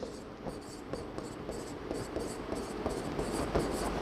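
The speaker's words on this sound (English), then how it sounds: "I must write" Handwriting produces a steady run of soft scratchy strokes, repeating roughly every half second at moderate distance over a faint room hum.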